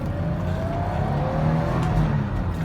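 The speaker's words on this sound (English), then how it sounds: "Lovely revving engine." A 1992 BMW 325i E30 convertible's engine revs steadily during a test drive, its rising tone loud, close and continuous under cabin noise with no talking.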